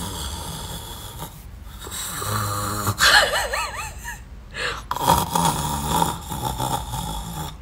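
A voice imitates loud snoring, with snorts, gasping breaths and wavering moan-like tones over several seconds, close and fairly loud.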